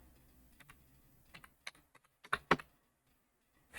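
Keys on a computer keyboard clatter in short irregular taps and a quick burst, close and fairly quiet, while HTML fieldset tag code is typed, with no talking.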